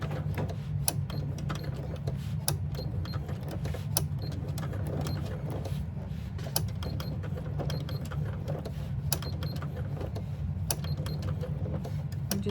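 A sewing machine stitches around a handbag with an owl face design, running as a steady close mechanical whir with a low hum and repeated light clicking from the needle mechanism, continuing alone throughout.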